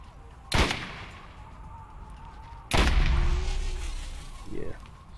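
Two loud gunshots in Borderlands, spaced about two seconds apart, each a sharp crack with a booming tail in an open desert badlands, with faint game sounds between.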